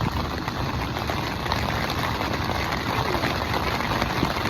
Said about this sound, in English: At least it's a gentle rain.